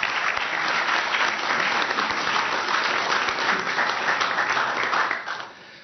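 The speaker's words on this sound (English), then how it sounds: "now please give them a warm round of applause" A warm round of audience applause at a National Press Club luncheon, dense sustained clapping from a large room that holds steady and then fades out near the end.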